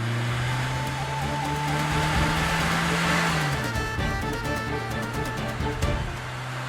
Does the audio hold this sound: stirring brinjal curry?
no